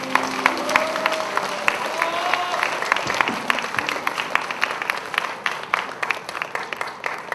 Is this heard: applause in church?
yes